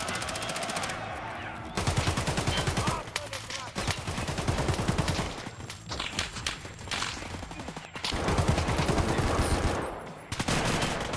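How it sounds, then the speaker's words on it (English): Rapid automatic gunfire from the video game Escape from Tarkov, loud bursts coming one after another, with short pauses between them. "I just tried to shoot this guy and my gun didn't move"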